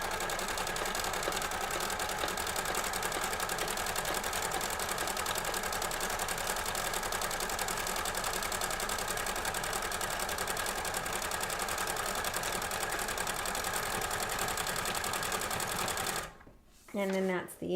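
Sewing machine stitching a toddler costume, running in a steady fast continuous whir for a long stretch and then stopping abruptly, close and loud, with a voice talking over it.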